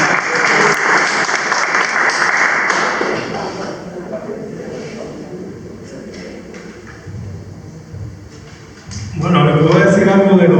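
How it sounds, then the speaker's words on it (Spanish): Audience at a conference hall applauding the technical crew, a loud dense burst of clapping that thins out over several seconds before a voice starts talking near the end. "Un aplauso para el equipo técnico."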